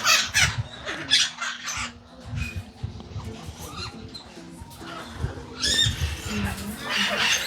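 Parrots such as macaws and conures squawk and screech in aviaries at a large commercial parrot breeding farm in the Czech Republic, harsh calls in repeated bursts near and far, with people talking between them.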